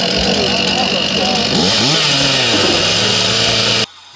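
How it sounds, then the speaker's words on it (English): A chainsaw roars near and loud while cutting hardwood at a timber sports meet, its engine pitch dipping and rising as the blade bites, before cutting off abruptly; a voice talks over it. "The chainsaw event"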